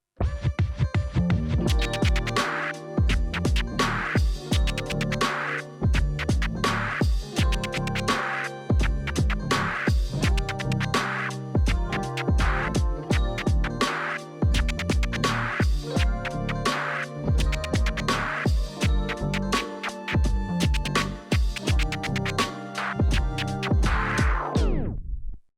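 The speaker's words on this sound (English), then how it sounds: "You can also combine triplet chirps with triplet stabs." Rapid turntable scratches cut a record sample into tight three-note bursts, mixing short chirps and sharp stabs in a steady repeating rhythm, loud and close.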